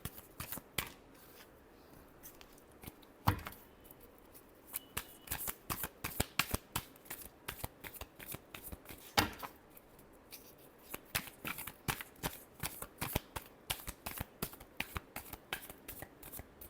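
Tarot cards shuffled by hand close up, a rapid series of crisp riffling flutters and sharp slaps coming in uneven bursts, fairly quiet and with no voice over it.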